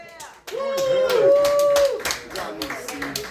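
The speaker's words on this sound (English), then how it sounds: "Big round of applause." Applause for a comedian introduced on stage at a comedy show fills the room, steady and loud for about a second and a half, mixed with cheers and voices, then tapering as the crowd settles.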